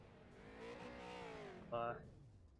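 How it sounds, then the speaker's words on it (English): Street stock race cars roar through dual burnouts at a short-track oval, a sustained engine howl with rising revs and a sharp louder burst near the end, loud and close. "probably gonna be doing some dual burnouts up here"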